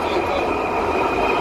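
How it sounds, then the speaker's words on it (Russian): A new driverless metro train in Istanbul runs through a tunnel underground, a loud steady rumble and rail roar with a constant whine, heard from inside the car. "Это, мои друзья, новое метро."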